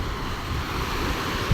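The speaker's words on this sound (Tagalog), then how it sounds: "Oh, lakas ang hangin ah" Steady, strong wind roaring across the microphone on a fishing trip by boat during the northeast monsoon, a constant broadband rush with low buffeting rumble throughout.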